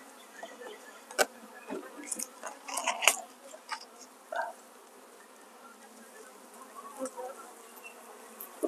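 Honey bees in a hive with a swarm cell, buzzing faintly with scattered louder buzzes and clicks, fairly close, over a quiet background.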